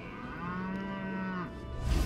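A cow's long, drawn-out moo plays as a sound effect in a Batman-themed tactics game, loud and sustained for over a second with some low rumble after it.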